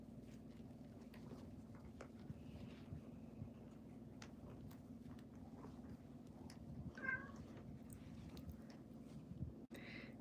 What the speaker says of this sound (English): Who's meowing?